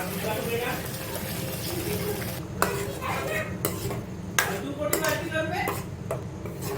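Masala paste tipped into a hot pan and fried for prawn curry: a steady sizzle with clanking spoon strokes and scraping against the pan, close by, with occasional speech over it.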